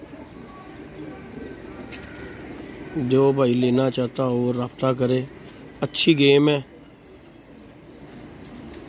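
Pigeons of a paired fancy breed coo in a few close bursts between roughly three and six and a half seconds, with someone talking over them and quieter stretches around.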